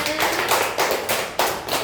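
A few bursts of clapping from a small group of schoolchildren in a classroom after presentations, short and uneven, each round fading quickly.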